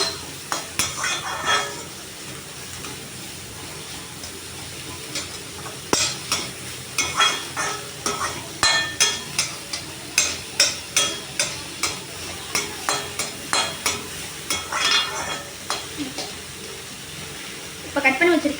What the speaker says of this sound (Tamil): வெங்காயம் போட்டிருக்கேன். போட்டு ஒரு கொஞ்சம் 2 நிமிஷம் வதக்கிக்கலாம்.